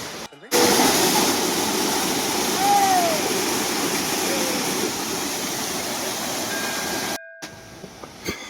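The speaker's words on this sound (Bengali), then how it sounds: "সত্যি উপর থেকে ঝর্ণা গড়িয়ে এসে কি সুন্দর নিচে চলে যাচ্ছে" Water from a waterfall rushes down beside a mountain trekking path to Kedarnath, making a steady broadband roar heard close and loud for most of the clip, briefly dropping out near the end.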